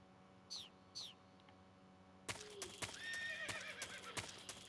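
Two short high calls sound faintly, then a horse in Metal Gear Solid 3 whinnies up close while hooves clop and thud in an uneven rhythm.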